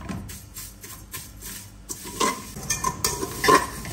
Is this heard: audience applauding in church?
no